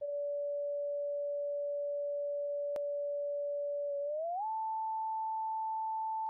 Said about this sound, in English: I found this website that will generate exact tones to help test this.